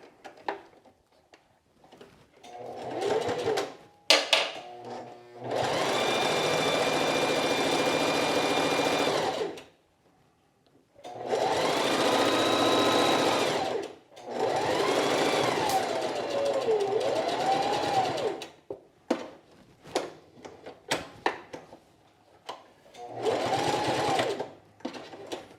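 A sewing machine stitches the layers of a quilted jacket in several bursts of rapid, steady whirring, each lasting a few seconds, separated by quiet pauses with small clicks and handling sounds.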